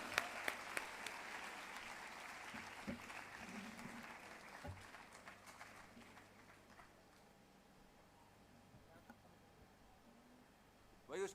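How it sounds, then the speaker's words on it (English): An audience at a school conclave claps together for Teachers' Day. The applause is moderate and steady at first, with a few louder claps, then gradually thins out over about eleven seconds before a final sharp clap. "Clap your hands, everybody."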